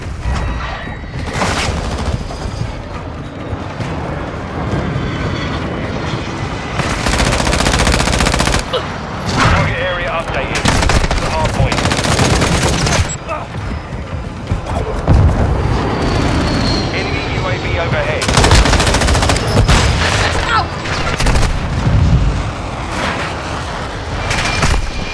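Machine-gun fire in the video game Modern Warfare 2, loud sustained bursts and rattling volleys filling the whole stretch, mixed with explosions and game radio chatter.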